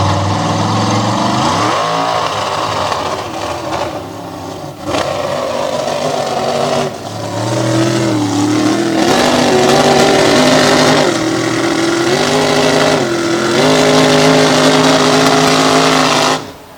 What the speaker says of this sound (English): Up next, this wild-looking machine, full-body Chevy square body.